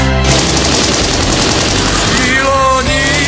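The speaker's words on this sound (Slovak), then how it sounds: "Nabitý kalašníkov pre mňa v diaľke krásne znie." A dense, loud burst of rapid automatic rifle fire, shots blending into a continuous roar with echoing rumble.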